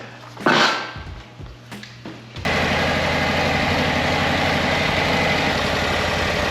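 A red Harley-Davidson Softail motorcycle rumbles: after a few brief thumps and knocks, the engine starts up and settles into a loud, steady, close idle that runs to the end.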